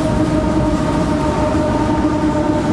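A train rumbles steadily along the tracks beneath a bridge, a loud, continuous rolling roar with a low hum and no pauses, up close.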